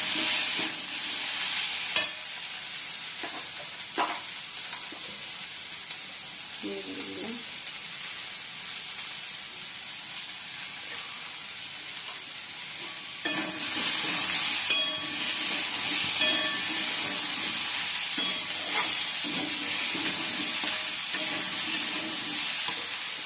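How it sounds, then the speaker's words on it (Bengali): Onion and potato frying in a pan for a Bengali poppy-seed dish, with a steady close sizzle and spatula stirring scrapes throughout, growing louder and more crackling partway through. "এই ওদের পোস্ত করবো তা পেঁয়াজ আর আলুটা ভেজে নিচ্ছে"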